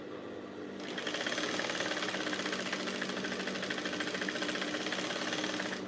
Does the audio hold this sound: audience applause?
no